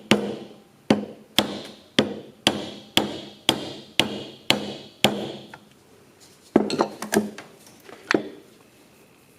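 Blunt end of a screwdriver tapping out a piston wrist pin on a 1967 John Deere 4020 tractor: a steady series of about ten sharp metallic knocks, then a looser cluster of quicker taps, close and clear.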